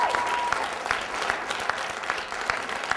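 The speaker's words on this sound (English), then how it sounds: "how about a nice big round of applause for all those students tonight" An audience at a college elevator pitch competition applauds the student contestants, a brisk, fairly close round of clapping with a few louder distinct claps, sustained for the whole stretch.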